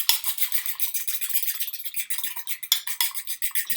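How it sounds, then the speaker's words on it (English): A fork whisks egg yolk and cream together in a bowl, a steady rapid clinking and scraping rhythm, close and fairly loud, with no talking. "Just going to loosen that up until it's completely mixed. I'm just using a fork for that."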